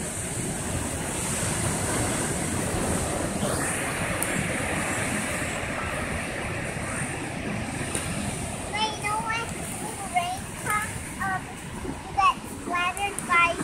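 Rushing surf and wind roar steadily near the shore at Santa Cruz, with a voice calling out over the waves near the end.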